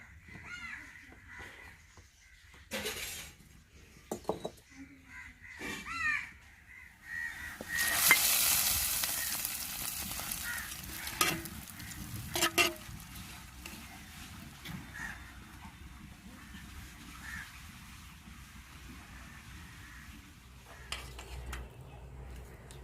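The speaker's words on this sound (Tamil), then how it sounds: "இறக்கி வச்சு தாளிக்கணும்." Mustard seeds and spices hit hot oil with a sudden loud sizzle that settles into a crackling fry, tempering a Tamil fish curry. Crows caw and utensils clink in the background.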